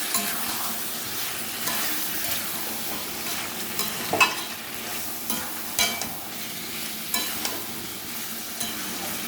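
Chicken pieces for biryani sizzle steadily in hot oil in a home kitchen pan, with stirring scrapes and soft spoon clatters recurring every second or two at close range, and no talking.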